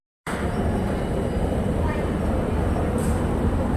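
A train rumbles at a railway station, a steady low-heavy roar that starts abruptly and holds loud and close throughout, with a brief brighter hiss near the end.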